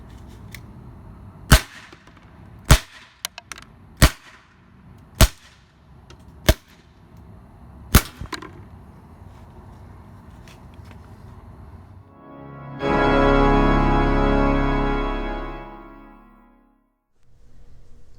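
Beeman P17 air pistol, Crosman SNR 357 CO2 pistol and a Crosman nitro piston .177 air rifle firing about seven sharp, evenly spaced shots, followed by a louder, sustained rushing burst and then silence.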